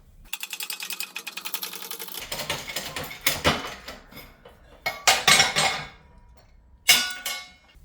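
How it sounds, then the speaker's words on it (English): A 20-ton hydraulic press pushes the bearing and pulley off a C5 Corvette LS6 power steering pump, starting with a quick run of rhythmic ratcheting clicks, then sharp metallic clanks and knocks up close. "So I guess we'll put it in the press and see if we can't shove them both off like this."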